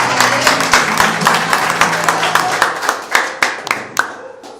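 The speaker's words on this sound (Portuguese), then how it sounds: "Aplauda o Senhor." A church congregation claps their hands during a sermon, a loose crowd of close claps with voices underneath, thinning toward a few distinct, rhythmic claps at the end.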